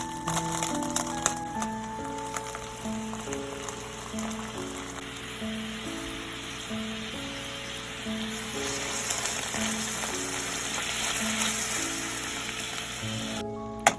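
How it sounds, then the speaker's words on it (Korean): Gochujang, ketchup, syrup and water sauce stirred in a pan over medium heat, a steady soft sizzle and bubbling under continuous background music, with no talk. "고추장, 케첩, 올리고당 그리고 물을 넣고 중불에서 잘 섞어주세요"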